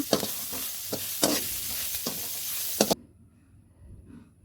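Green chilies dropped into a hot pan for prawn curry sizzle and crackle loudly in bursts for about three seconds, then cut off abruptly, leaving only a faint quiet hiss.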